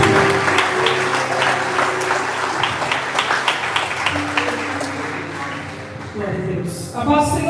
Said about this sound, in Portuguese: Aplauda Jesus e nós vamos para cima